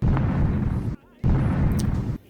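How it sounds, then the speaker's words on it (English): A B2 bomb in Minecraft PE with a Shin Godzilla mod sets off two loud booming blasts, each sustained rumble cut by a brief near-silent gap. "And now the B2 bomb should work on him."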